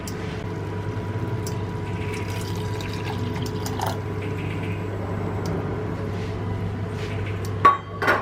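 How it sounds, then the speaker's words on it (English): Water pours into a pot of rice in a home kitchen, a steady close liquid stream under a constant background hum, ending with a short clatter. "So I'm gonna add 1 cup of water to this. I'm gonna do it right now so you guys can see."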